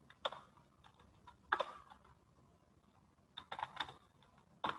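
Code being typed on a computer keyboard, quiet scattered clusters of key clicks with short gaps between bursts, close and alone.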